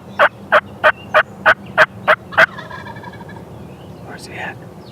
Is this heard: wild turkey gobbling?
yes